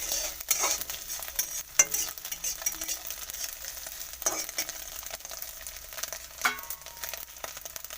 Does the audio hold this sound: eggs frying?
yes